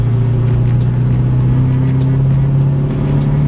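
Big-turbo Duramax pickup truck towing up a steep grade in second gear, its diesel engine droning loud and steady as boost builds, heard from inside the cab.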